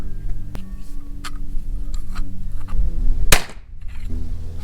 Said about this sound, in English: I like this nail gun.